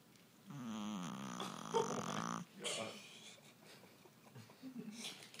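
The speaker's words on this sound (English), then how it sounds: "Snoring." A sleeping dog snoring: one long, loud, rattling snore, then softer breathy snorts, close and indoors.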